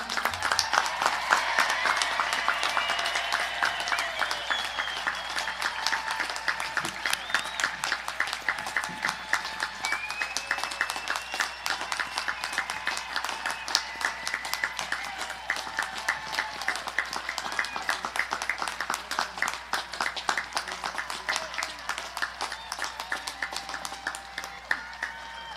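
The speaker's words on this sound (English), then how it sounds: "Can we get a round of applause for the class of 2020?" Graduation audience at Martinsville High School applauding the class of 2020: sustained, even clapping from a large crowd, with a few distant voices and whistles over it, holding steady for the whole stretch.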